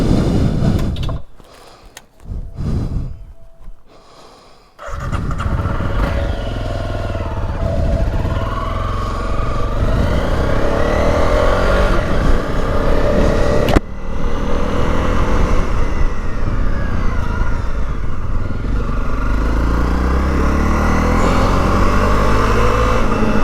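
A Honda CRF250L motorcycle fitted with Hyperpro suspension being ridden, its engine droning loudly and steadily close to the microphone after a few quiet seconds at the start, with no talking.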